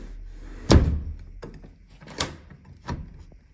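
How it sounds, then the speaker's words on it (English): Sliding patio door fitted with a mortise lock being closed: a sharp thunk as it shuts, followed by several lighter knocks and clicks of the hardware, close and alone without talk. "close your door."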